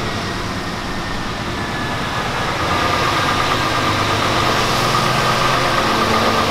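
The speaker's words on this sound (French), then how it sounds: "Comme ça vous pouvez entendre le beau bruit du camion" A truck engine runs steadily from inside the cab with the window open, a continuous low droning rumble that grows slightly louder partway through, close and constant with no talking.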